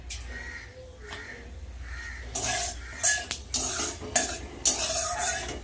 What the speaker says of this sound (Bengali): এই তেলের মধ্যেই দিয়ে দেব তেজপাতা আর দিয়ে দেবো গোটা জিরে